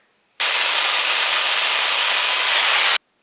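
A steady, harsh rasp of a saw cutting through pallet wood runs continuously for a few seconds, loud and close, then stops abruptly.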